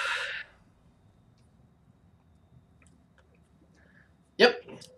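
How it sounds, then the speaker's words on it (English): A character in the God of War video game gives one short, sharp sneeze near the end after a long quiet stretch, with a brief voice at the very start. "Yep, sneezing."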